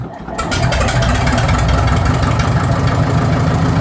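A Farmall 650 tractor's diesel engine runs steadily and loudly up close after a brief quieter moment at the start, with a dense, rumbling low-end chug that holds unchanged throughout.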